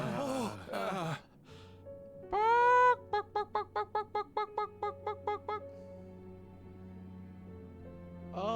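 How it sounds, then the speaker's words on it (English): Chickens in Genshin Impact give a series of short, evenly spaced squawks and clucks, clear and close, after a brief voice and a honking call. "Oh, chickens."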